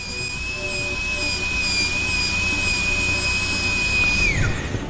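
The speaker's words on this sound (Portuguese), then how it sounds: "nós vamos preparar o sulco marginal cervical em toda a extensão mesiodistal da face vestibular, com meia broca em profundidade" A dental bur cuts a marginal groove on a tooth, a steady high-pitched whine that holds for several seconds and then falls away as the drill winds down.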